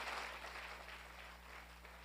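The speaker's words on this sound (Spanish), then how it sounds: "si le das un aplauso al Señor" Applause from a church congregation at a twelfth-anniversary service, a steady, diffuse wash of clapping held at a moderate, distant level for the whole span, with no voices over it.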